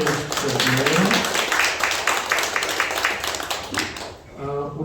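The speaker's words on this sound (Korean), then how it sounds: "박수 한번 보내주십시오" A church congregation claps together during a Sunday worship service, a dense, sustained wash of applause that fills most of the clip and thins out near the end, with talk mixed in beneath it.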